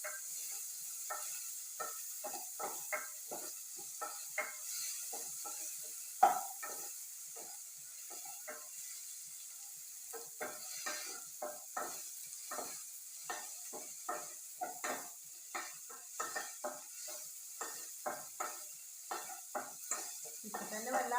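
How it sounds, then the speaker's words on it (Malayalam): Chopped tomatoes sauté in a hot pan for a curd curry, a soft steady sizzle broken by frequent scraping stirs and light clinks of a spoon against the pan, close and fairly quiet, no talking. "തക്കാളി ഇട്ടിട്ട് നന്നായി വഴറ്റുക."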